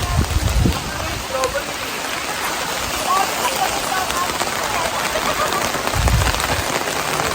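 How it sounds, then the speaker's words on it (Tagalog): Steady, dense rain pours down continuously on a campsite, a loud broadband hiss with occasional low thumps, no talking over it. "nandito kami sa camping tapos napakalakas ng ulan"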